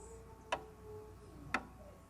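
A steady musical beat of two sharp, evenly spaced clicks about a second apart, quiet and isolated over a faint low hum.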